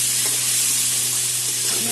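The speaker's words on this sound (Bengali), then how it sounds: "এখন আলুটা ভেজে নেব" Potato pieces fry in oil in a pan while cooking a Bengali cauliflower roast, giving a close, continuous hissing sizzle with faint crackles and no talking.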